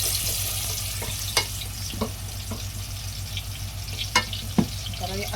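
Marinated chicken for a restaurant-style biryani fries in hot oil with a steady close sizzle, broken by occasional sharp utensil clicks and stirring scrapes.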